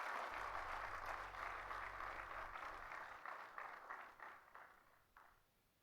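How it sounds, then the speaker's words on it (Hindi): Audience applause fills an auditorium at a Valor Day military ceremony, a steady sustained clapping that gradually thins into scattered individual claps before fading out. "तालियों के साथ उनका अभिनंदन करें।"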